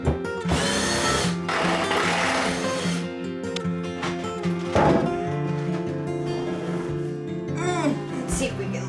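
A power drill whirs in several bursts as it backs screws out of a countertop. A person talks and exclaims between the runs.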